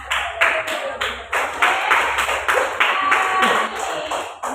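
Short bursts of hand clapping from a small group at a birthday surprise gathering, several uneven rounds of claps one after another, close and fairly loud.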